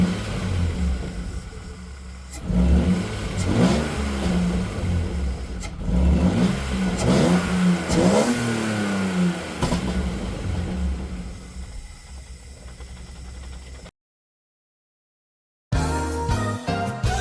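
A BMW E36 engine cranks over and catches, then revs repeatedly in loud rising and falling sweeps before settling, followed by a short gap and a burst of further engine noise at the end.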